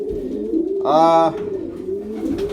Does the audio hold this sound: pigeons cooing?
yes